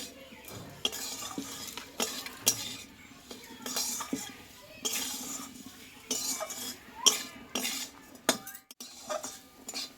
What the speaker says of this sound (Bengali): এটা ভালো করে একটু ভেজে নিতে হবে মটরশুটির সঙ্গে